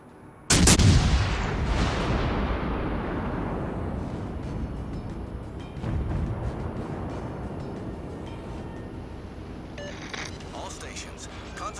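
Naval gunfire in a warship video game: a loud, sharp cannon blast followed by a long rumbling decay, with a second, softer boom around the middle and continuous low battle rumble, heard under a voice giving radio commands.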